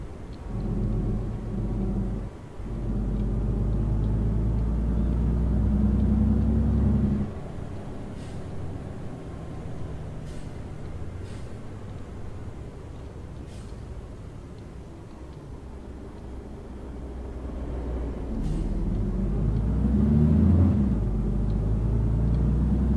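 Bus driving out of Istanbul in Euro Truck Simulator 2 with a bus mod: a steady low engine rumble and road drone, swelling and easing with the throttle, with a few faint clicks over the constant hum.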